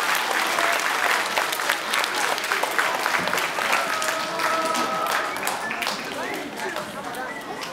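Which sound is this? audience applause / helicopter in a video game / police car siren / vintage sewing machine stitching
audience applause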